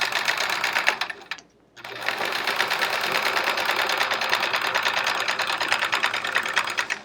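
A sewing machine stitches with a Westalee decorative thread ruler foot, a fast steady buzzing whir that pauses briefly near the start, then runs on evenly and close.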